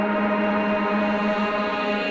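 A reversed shimmer plate reverb tail made in Ableton Hybrid Reverb forms a dense, steady tonal wash of layered high overtones, sustained evenly without a clear attack.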